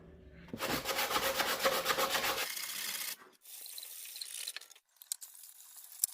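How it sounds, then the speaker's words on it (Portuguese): Sandpaper rubs by hand inside a fiberglass mold taken from a 3D-printed part. A close, dry, rasping scrub runs steadily for a couple of seconds, then thins to softer, intermittent strokes and scrapes. "Vou estar fazendo o lixamento aqui interno."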